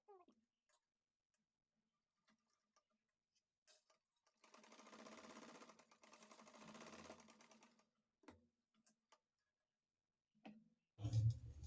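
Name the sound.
sewing machine stitching blouse lining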